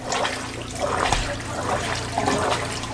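Water runs and trickles from thawing pipes in an off-grid cabin, a steady close gurgling flow with small surges and splashes throughout.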